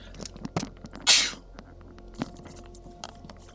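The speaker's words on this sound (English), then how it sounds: "I'm gonna sneeze." A single sharp sneeze bursts out midway during a Magic: The Gathering Arena drafting session, surrounded by small clicks and faint room noise.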